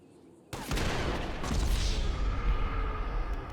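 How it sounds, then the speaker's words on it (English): A basic pistol fires a single shot to the head in GTA 5 Online: a sudden sharp report after a quiet moment, followed by a loud, lingering roar of game noise. "we'll start with the absolute basic pistol with a single shot to the head"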